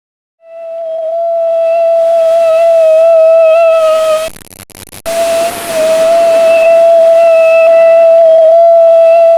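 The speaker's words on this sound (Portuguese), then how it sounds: "Resposta certa, mosquito." A mosquito buzzes in a steady, high, whining drone, loud and close, that cuts out briefly midway and then resumes, with no other sounds.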